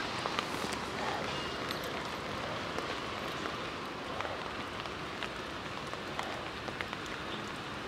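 Steady rain falls around a walker on a path among cherry blossoms, a dense even patter with scattered drips close by and no talk.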